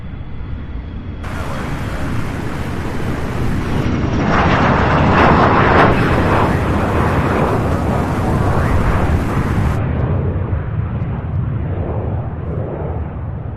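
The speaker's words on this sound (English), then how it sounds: "a landing here. United Express Flight 3467 out of Chicago O'Hare." A United Express airplane from Chicago O'Hare lands at Louisville International Airport with a loud, sustained jet roar that swells in the middle and slowly eases, heard from nearby without talking.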